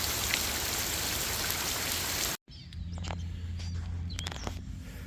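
Rain falls steadily at a riverside campground, a dense hiss that cuts out abruptly, then gives way to softer patter with scattered drops and occasional light taps.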